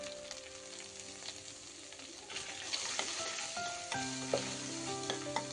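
Ginger garlic paste sizzles and fries in oil in a pan for a Kara Boondi curry, with a steady crackle and occasional stirring scrapes that grow louder partway through, and nobody speaks.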